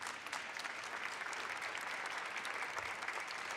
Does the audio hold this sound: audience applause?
yes